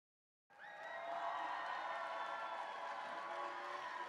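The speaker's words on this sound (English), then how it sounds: "let's hear you cheer for our finalist alliances" A crowd at a FIRST robotics district competition in Mason cheers for the finalist alliances, a sudden, loud, sustained roar of voices and applause that holds steady after a brief silence.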